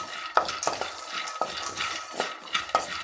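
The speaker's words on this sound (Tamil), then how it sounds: "இந்த அளவுக்கு நல்லா வறுத்து எடுத்துக்கணும்" Peanuts roast in a pan while a spoon stirs and scrapes them, producing rhythmic rattling and clinking strokes over a faint sizzle.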